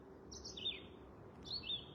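Birds call outdoors on a summer day, with two faint, thin chirping phrases about a second apart over a soft background hush.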